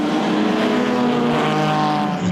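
AC Cobra race car engine roaring loud and close at the Le Mans Classic, a steady high-revving growl with strong harmonic tones, heard alone without talk.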